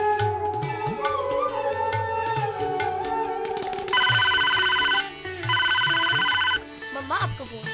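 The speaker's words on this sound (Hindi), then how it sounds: "मम्मा आपका फोन।" A telephone ringtone rings out in two bursts, loud and close, over background music and voices.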